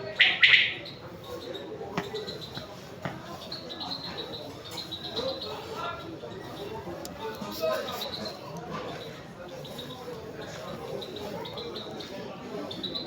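Birds kept in a cage chirp and squawk in short, scattered bursts, with one sharper call near the start, amid a busy background of murmuring voices and room noise.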